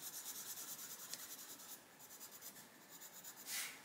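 Coloured pencil moving across paper in steady blending strokes, a close, soft continuous scratching with small pauses and a slightly firmer burst near the end, no talking.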